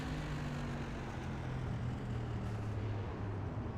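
SK Modified race car heard from the onboard camera at a speedway, driver completely off the throttle while creeping around the bottom of the track; a steady, loud, low engine drone and rumble with wind noise fills the whole stretch without any talk.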